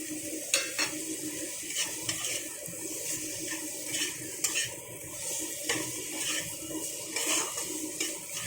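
Tomato and spice paste fries in a pan for a spicy fish curry, with a bubbling sizzle and repeated scraping taps of a spatula stirring through it; nobody speaks.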